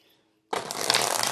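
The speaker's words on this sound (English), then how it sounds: "Let me get the deck shuffled out first before I do the love reading for you" A tarot deck is shuffled for a love reading: after a short silence, a crisp rapid riffle of cards starts and continues close up and alone.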